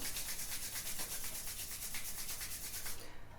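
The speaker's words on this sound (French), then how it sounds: "Je frotte mes mains." Two hands rub briskly together up close, giving a loud, rhythmic dry swishing with fast regular strokes that stop just before the end.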